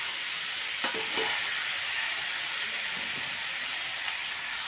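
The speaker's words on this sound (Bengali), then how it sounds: "এখন আমি বেশ কিছুক্ষণ কষিয়ে নেব চিকেনটা" Chicken being sautéed in a rice cooker along with pre-fried potatoes for chicken polao, giving a steady hissing sizzle with a few soft scrapes of stirring, with no voices.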